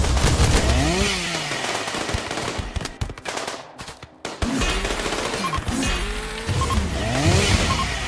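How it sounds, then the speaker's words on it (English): RimWorld combat in a grim sci-fi colony fight, with loud, rapid automatic gunfire rattling almost continuously, one brief lull midway, then bursts resuming at close range with no talking. "Everybody's shooting."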